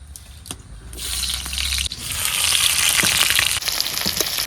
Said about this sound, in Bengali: কড়াই গরম হয়ে গেছে, আমি তেল দিয়ে দিচ্ছি।